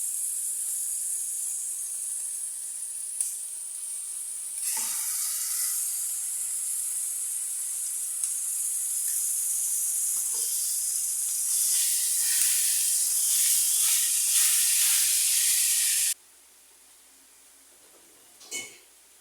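Ground meat with chopped onion and garlic fries in a hot pan, a loud steady hiss and sizzle with occasional spatula scrapes before the sizzle suddenly drops away near the end.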